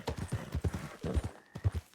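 Hooves clip-clop in a steady walking rhythm, close and fairly loud, with a brief high whinny near the end, from a horse in the video game Red Dead Redemption 2.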